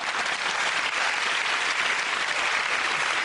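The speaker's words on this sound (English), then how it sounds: "that round of applause go to Russell" A studio audience at a topical comedy panel show applauds steadily and loudly, a dense wash of clapping that holds throughout with no voices over it.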